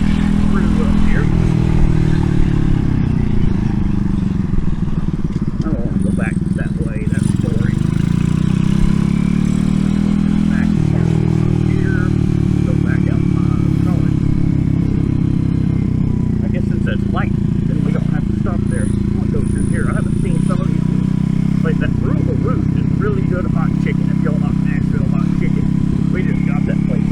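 An RPS Racer 140 motorcycle with a new stainless exhaust is ridden at low speed, its engine droning steadily and wavering as the throttle changes, with a voice talking over it.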